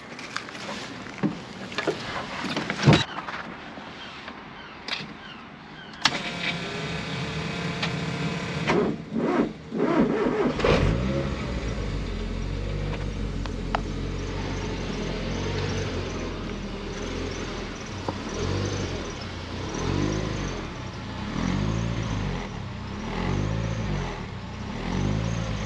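Ford Escort Cosworth WRC replica engine cranks with some clicks, fires up around ten seconds in and settles into a loud, steady, lumpy idle close by.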